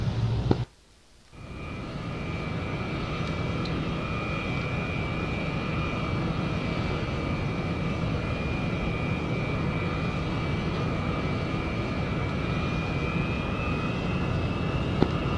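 A Mirage fighter jet's engine roars steadily at full power during takeoff in the DCS flight simulator, a loud continuous whine and rush that follows a brief dip near the start.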